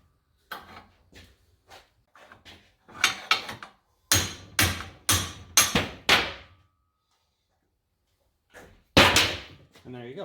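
Old bushings are chipped out of a 1967 Camaro front end with sharp, loud metallic hammer strikes in bursts: a few light hits, then a run of heavy close blows, a pause, and a final hard strike.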